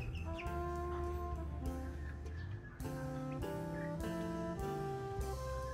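Chickens about 45 days old cluck and call close by, layered harmonic calls overlapping steadily with little pause and no talking.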